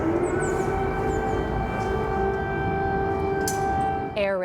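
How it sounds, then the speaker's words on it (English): Civil defense air raid sirens wail across Kyiv in a steady, loud, sustained tone with layered pitches, a news narrator's voice briefly audible at the end. "Air raid sirens went off in the Ukrainian capital twice during Ruta's visit"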